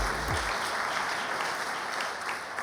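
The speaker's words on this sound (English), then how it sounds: "Round of applause for her." An audience at an awards ceremony applauds, a dense, steady wash of many hands clapping together that holds at an even level and fades slightly toward the end.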